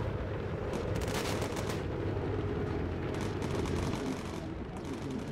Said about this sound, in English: We're gonna take some flak damage here